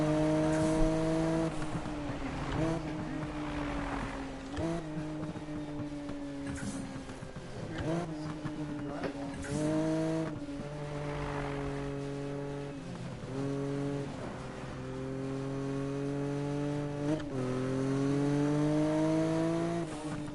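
A car engine humming steadily in Need for Speed 2015, with repeated rising gear shifts and revs over about twenty seconds, moderately loud and continuous.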